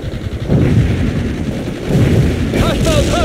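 Sustained gunfire and artillery booms fill a war video game battle, loud and continuous with rolling blasts, while a voice speaks briefly under the noise.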